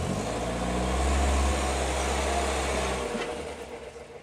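A Volvo 544 car engine runs at low revs while the car backs slowly onto ramps, giving a steady rumble that swells slightly midway and then eases off toward the end.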